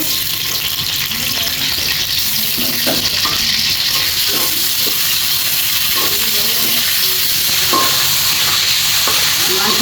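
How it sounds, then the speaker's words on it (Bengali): Chicken pieces fry in hot oil, making a loud, continuous close-up sizzle and hiss with intermittent scraping and stirring noises, and no talking. "তেল গরম হয়ে গেছে এখন দিয়ে দিচ্ছি মুরগির মাংস"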